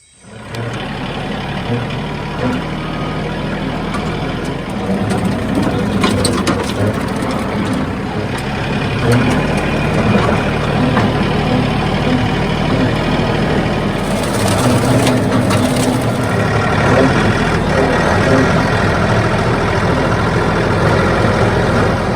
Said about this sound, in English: Decided this Max is like my favorite tractor.